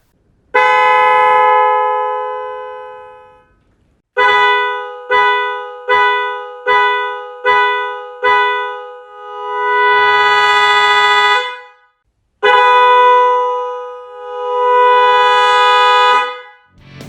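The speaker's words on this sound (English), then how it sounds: "Test your new smart horn to ensure it is functioning properly." A Meerya smart car horn sounds a series of loud, tonal blasts: a long honk, a rapid run of short toots, then more sustained blasts with pauses between them.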